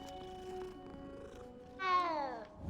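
A cat rubbed in the Hogwarts Legacy video game gives one clear, rising then falling meow near the end, over faint game ambience and low hum.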